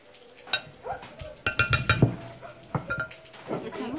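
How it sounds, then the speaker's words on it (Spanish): A spoon stirs shrimp ceviche with onion, tomato, cilantro and mint in a bowl, giving irregular clinks and scrapes against the dish, fairly close and soft, with occasional voices nearby. "Ahorita lo estamos meneando."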